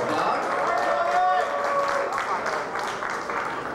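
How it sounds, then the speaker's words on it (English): Crowd at the Mr. & Miss Gay Black USofA 2006 pageant applauding a newly announced guest, lively clapping and cheering beneath an announcer's amplified voice, easing off toward the end. "give him a big round of applause"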